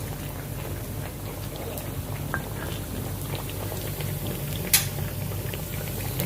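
Tempe fries in a pan for sambal, a steady soft sizzle full of tiny pops and crackles, with one brighter spatter partway through and no voices.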